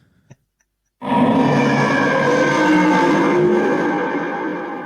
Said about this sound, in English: That actually sounded like an underground train when it comes through.